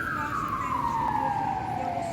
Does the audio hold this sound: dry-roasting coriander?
no